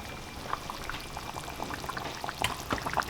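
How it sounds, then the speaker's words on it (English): Grease being spooned and drained from a pot of simmering oxtails, giving soft steady bubbling and pouring liquid with scattered light drips and clinks, close and fairly quiet. "draining the grease"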